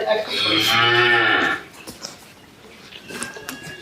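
A Holstein or Red Friesian heifer at a dairy farm gives one long, loud moo close by, followed by quieter barn noise and faint rustling.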